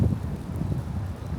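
Wind gusts past buildings outside an antique shop in Fort Mill, South Carolina, a steady low rumble buffeting the microphone throughout with no voices.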